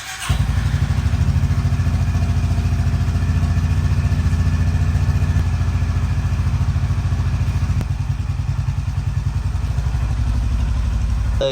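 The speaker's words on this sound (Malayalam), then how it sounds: "നമ്മൾ ബൈക്ക് പോയി ഒന്ന് എൻജിനൊക്കെ ഒന്ന് സ്റ്റാർട്ട് ചെയ്ത് കോൾ സ്റ്റാർട്ട് ചെയ്ത് വെക്കാം" A motorcycle engine catches at the start and then settles into a loud, close, steady idle with a rapid, even thumping pulse that continues to the end, with no talking.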